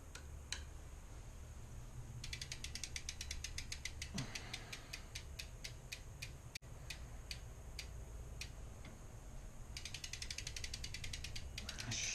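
A ratchet tool loosens the compression bolt on a Subrosa Malum 22 BMX bike, giving close, crisp bursts of rapid clicking with short pauses between strokes and no talking.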